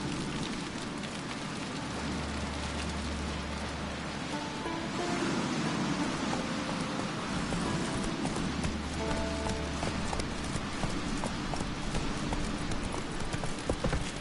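Roach, the horse in The Witcher 3, clip-clops steadily at a moderate pace over a constant rain-like hiss, with a low hum swelling and fading in the background.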